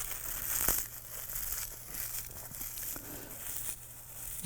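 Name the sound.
hands crumpling seaweed sheets into flakes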